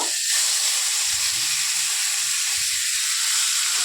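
Chopped prawns fry in hot oil in a pan, a loud, steady broadband sizzle and hiss that runs the whole time, with a few soft low bumps from the pan.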